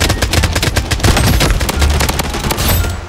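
Loud, rapid automatic gunfire rattles almost without pause in the shooter game Project Blood Strike, dense bursts of shots close up with no voices over them.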